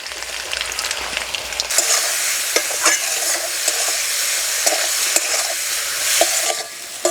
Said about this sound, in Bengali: এবার নাড়াচাড়া করে মশলা ভেজে নেব।